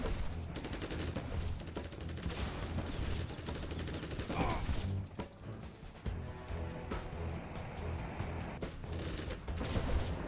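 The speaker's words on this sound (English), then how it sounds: "Scuba is now spamming flashbangs because he needs to deal with this" Flashbangs are spammed in a real-time strategy video game match, giving dense, continuous rapid-fire bursts and booms that blur into a steady barrage for the whole stretch.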